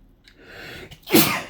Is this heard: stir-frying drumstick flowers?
no